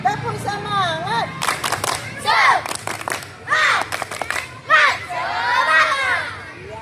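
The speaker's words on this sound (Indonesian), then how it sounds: "tepuk semangat" Schoolchildren in a fifth-grade physical education class shout a rhythmic spirit clap chant together, loud and close, with bursts of claps and voices rising and falling in a lively group cheer.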